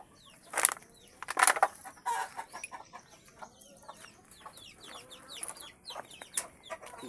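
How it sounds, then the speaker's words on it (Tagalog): Chickens cluck and squawk in a few sharp bursts early on, then softer scattered clucks continue over a faint outdoor background in a rural province. "ngayon ito yung mga manok nila mama"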